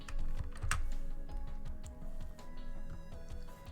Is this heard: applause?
no